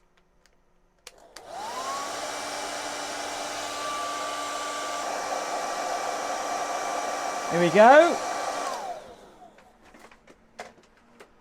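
A hair dryer blows steadily at the cooling fan of a caravan or motorhome fridge, a loud continuous whoosh with a rising motor whine that runs about eight seconds and then cuts off; a voice speaks briefly near the start.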